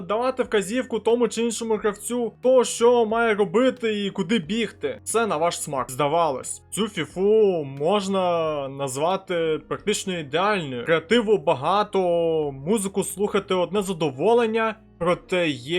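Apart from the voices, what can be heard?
No everyday noise stands out behind the speech.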